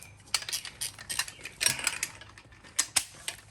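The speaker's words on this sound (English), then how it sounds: "torque wrench" A torque wrench on a Fiat 500 Abarth front brake job gives off a series of sharp, close mechanical clicks and ratcheting ticks in uneven bursts, with metallic rattles between them.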